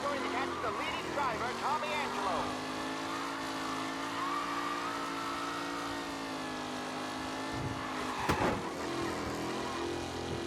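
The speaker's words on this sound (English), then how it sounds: "the car engine is making some bad sounds" A race car engine roars steadily in Mafia Definitive Edition, holding a sustained, fairly loud drone with a harmonic whine that dips briefly near the end, while other engine noise sits in the mix.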